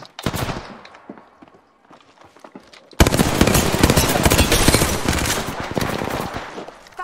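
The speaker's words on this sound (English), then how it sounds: "Firing." Rapid automatic gunfire in the Apex Legends battle royale game, first scattered sharp shots, then a dense, loud, sustained burst of close weapon fire running for several seconds.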